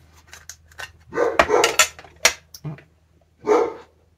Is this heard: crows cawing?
no